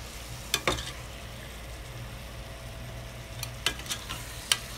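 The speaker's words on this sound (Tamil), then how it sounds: "இந்த பிரான் வந்து கொஞ்சம் ரோஸ்ட் ஆகிற அளவுக்கு நம்ம வதக்கி விட்டுக்கணும்." Prawns sauté in masala in a pan for pressure-cooker biryani, giving a soft steady sizzle under a few sharp scraping stirs of a spatula near the start and end.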